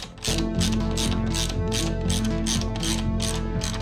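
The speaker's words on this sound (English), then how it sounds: "I'm gonna put my wrench there." Ratchet wrench tightening a nut on a disc guard being installed on a Yamaha TTR 230 motorcycle, a steady run of close, loud, rapid clicking strokes with no talk.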